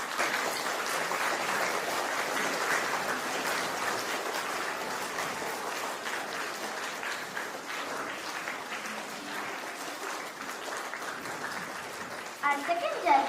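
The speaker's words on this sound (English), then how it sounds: "Give them a big round of applause." Sustained crowd applause from an audience at a storytelling competition grand finale, a dense steady wash of clapping lasting the whole stretch before a few louder, closer claps near the end.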